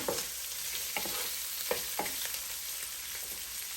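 Cabbage and sausage sautéing in a pan, a soft steady sizzle with a few scraping strokes of a utensil stirring, fairly quiet with no talking.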